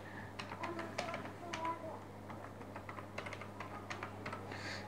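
Keystrokes on a computer keyboard while a Photoshop title is entered, a steady run of quick clicks in uneven bursts over a low room hum.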